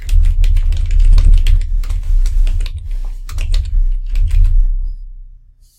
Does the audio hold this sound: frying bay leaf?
no